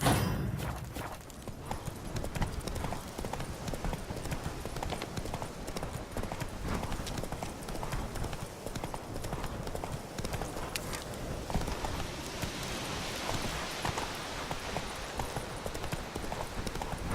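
Horse hooves clip-clop steadily through a gallop in The Witcher 3, a continuous rhythmic patter of hoofbeats over ambient game sound, with faint talk at the start.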